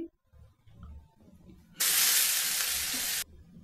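Washed masoor lentils tipped into a hot frying pan with fried soybean chunks, setting off a sudden loud sizzling hiss that lasts over a second before cutting off, after quieter kitchen clatter.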